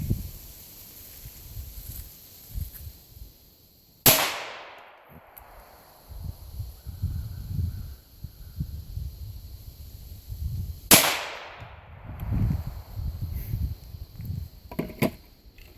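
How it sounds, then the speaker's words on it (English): Two sharp .22 Long Rifle gunshots ring out several seconds apart, each a loud crack with a decaying tail, with rustling and handling noise in between. "First one will be 22 long rifle."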